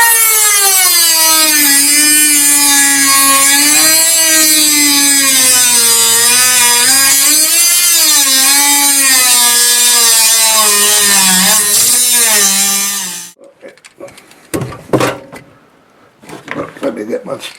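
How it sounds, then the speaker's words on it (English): A Dremel rotary tool whines loud and close for about thirteen seconds, its pitch wavering as it cuts through a kitchen sink basket strainer's tightening nut, then stops, followed by scattered clanks and handling noises. "cut this strainer nut, tightening nut, off of this basket strainer"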